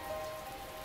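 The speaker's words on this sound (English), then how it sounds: "The sound of the rain outside our dark little room seems to grow louder." Rain heard from inside a small dark room in The Fruit of Grisaia video game, a steady soft patter of drops on a surface with a faint tonal hum beneath, continuous and quiet, alone.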